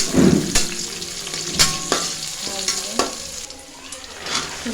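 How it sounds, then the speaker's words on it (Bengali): Chopped onion and chili frying in oil in a pan for a Bengali vegetable fry, with a steady close sizzle broken by several sharp scraping stir strokes, no talk. "তেল দিয়ে দিয়েছি, পেঁয়াজ কুচি, মরিচ কুচি দিয়ে দিয়েছি"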